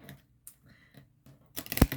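Tarot cards from a Halloween deck being shuffled by hand, a few soft riffling taps followed by a louder burst of card shuffling near the end, close and quiet.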